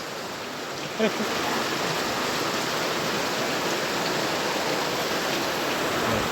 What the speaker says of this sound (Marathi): पाऊस काय थांबत नाही म्हणून आम्ही वाट बघतो पाऊस थांबायची